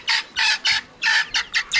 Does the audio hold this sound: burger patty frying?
no